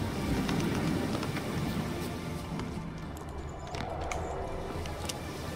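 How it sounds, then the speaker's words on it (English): Steady rain falling in The Witcher 3: Wild Hunt, a dense continuous wash with faint footstep-like patter running underneath throughout. "Looks like rain."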